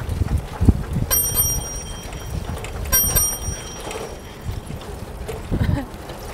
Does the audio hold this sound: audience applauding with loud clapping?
no